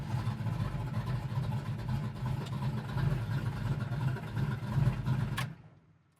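A 1969 Chevelle hot rod idles steadily with a deep, lumpy rumble, loud and close, then cuts off abruptly near the end and leaves silence.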